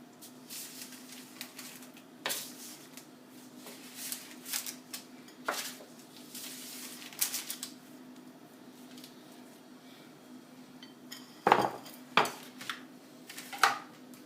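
A ribeye steak slid from a hot pan onto a plate, with scattered scraping and clinking of metal and crockery, sharper clatters near the end over a low steady hum.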